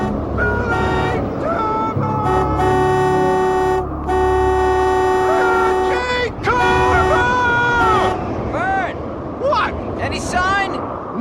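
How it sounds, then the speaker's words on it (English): Repeated long and short car horn blasts blare loudly at close range during a storm, with excited voices talking and calling out between the honks. "Here, you watch, let me honk."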